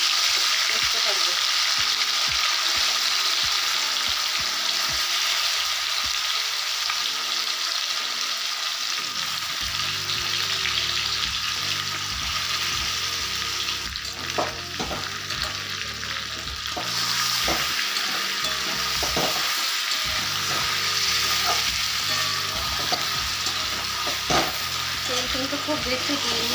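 Marinated chicken frying and being stirred in oil in a wok for biryani, a continuous close sizzle with scraping stir strokes throughout, briefly quieter midway, with no talking.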